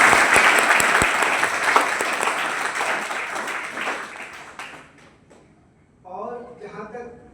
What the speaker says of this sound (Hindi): इसलिए मैं चाहूँगा कि खूब तालियों से आप बहुत जोर से